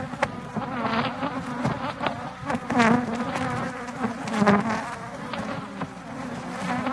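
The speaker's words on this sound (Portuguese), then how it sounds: "Olha o movimento de abelha que tinha nesse apiário." Honeybees hum steadily around hives in an apiary beside a soybean field, a dense continuous buzz with individual bees zipping past the microphone at close range.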